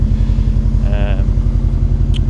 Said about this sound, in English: That is the Ganador exhaust